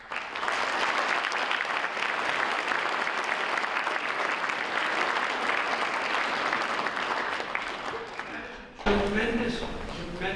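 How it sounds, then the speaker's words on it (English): Broad, steady applause from an audience at a school district academic award presentation runs for about nine seconds, then cuts to a speaking voice. "so you should give yourself a round of applause"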